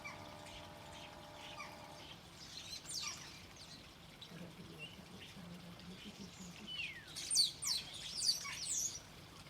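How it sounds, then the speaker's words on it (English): Garden birds chirp and tweet while feeding outdoors, scattered thin calls at moderate distance that grow busier and louder in the final seconds, set against soft ambient noise. "the birds enjoying the food outside in the garden"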